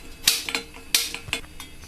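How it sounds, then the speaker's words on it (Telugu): A pan is set on a stove and clanks against it, making a few sharp metallic knocks and rattles close by, with brief quiet gaps between. "ముందుగా ఒక ప్యాన్ పెట్టుకుని స్టవ్ ఆన్ చేసుకోవాలి."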